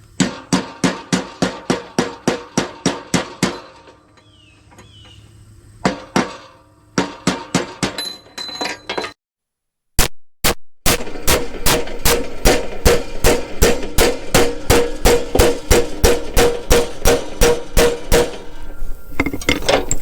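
A hammer pounds two stacked sockets down in a tiny off-grid house workshop, striking in fast, regular rhythmic series with metallic ringing, a pause mid-way, then a long steady run of close, loud blows.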